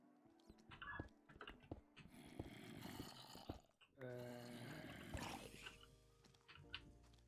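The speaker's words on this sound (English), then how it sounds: "Puppy's barking, sorry." A puppy barks indoors in short, sharp bursts, fairly close, over a busy background and under a person talking.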